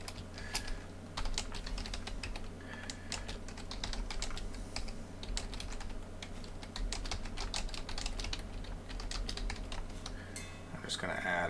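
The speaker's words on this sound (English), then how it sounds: "And I'm going to type in" Quiet, steady clicking of keys as text is typed on a computer keyboard into Microsoft Word, with irregular bursts of keystrokes over a faint background hum and no voices.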